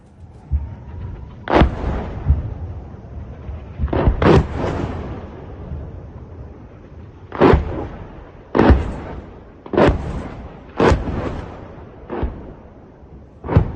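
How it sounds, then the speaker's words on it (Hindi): A series of heavy booming explosions from a Hezbollah rocket attack on an Israeli military base, about ten blasts spread unevenly over several seconds, loud and reverberant with quiet gaps between them. "इन विस्फोटकों से आप अंदाजा लगा सकते हैं, जो जोर से आवाज होती है"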